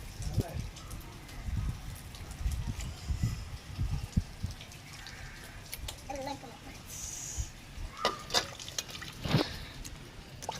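Snails being washed by hand in water for a snail curry, giving intermittent close splashes, trickles and drips with voices murmuring in the background.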